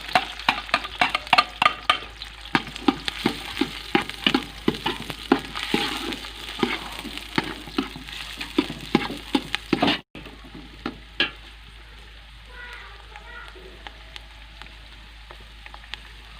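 Onions are stirred into a full cup of hot ghee in a pot, frying with a steady crackling sizzle and repeated scraping stirs. Past the midpoint the stirring stops and a quieter, even sizzle carries on alone.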